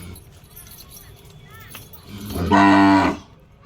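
A cow moos once, loud and close, near the end, after quieter farmyard background sounds with people talking nearby during milking.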